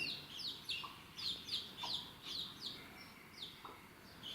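A hen and a guinea fowl chick call close by in a quiet setting, with a run of about ten sharp, high, repeated peeping chirps at an even pace over soft low clucks and faint background.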